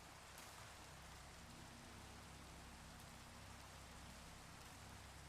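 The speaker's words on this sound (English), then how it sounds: "Wait, it's raining?" Steady rain falls in a Minecraft world, a dense, even hiss of drops that runs unbroken from start to end with no voices over it.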